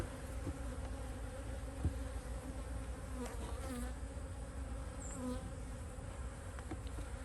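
Honeybees hum steadily around open beehive frames in a green apiary, a dense, continuous close-up buzz with a few individual bees whining past.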